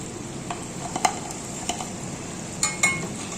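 Noodle balls fry in hot oil with a steady close sizzle, broken by a few sharp clinks and stirring knocks.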